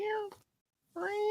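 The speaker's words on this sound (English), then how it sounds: "Try that meow again." A cat meows twice up close, each call a sustained tonal cry, separated by a short silence.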